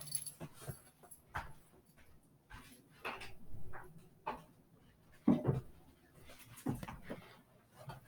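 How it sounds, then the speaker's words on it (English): A pet dog whimpers and whines to be let inside, giving short soft yips and scratchy bursts at irregular intervals with quiet gaps between them. "My dog has asked me to come in."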